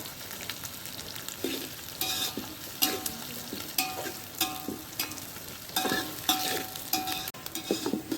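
Onion frying on a wood-fired stove for Nilanga rice, a continuous sizzle broken by repeated stirring scrapes and clinks, close and without talk.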